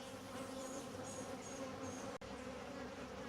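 A steady, dense buzzing of many honey bees close by around a hive, continuous and droning with no voices.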